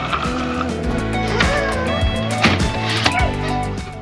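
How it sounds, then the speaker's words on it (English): A small tractor drones close by as it approaches, its steady engine hum broken by clanks and rattling knocks. "Here comes my tractor."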